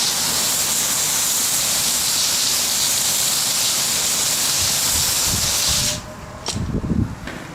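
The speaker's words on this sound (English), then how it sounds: "we're gonna go ahead and rinse off the tree" A steady, loud spray of rinsing water hisses over a potted pepper plant being washed off, running continuously before cutting off abruptly, followed by a few faint knocks and rustles.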